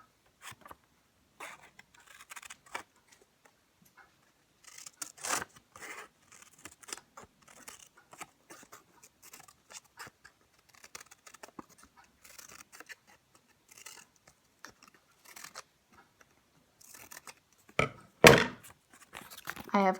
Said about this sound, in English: We're going to now take our scissors and cut between the pairs of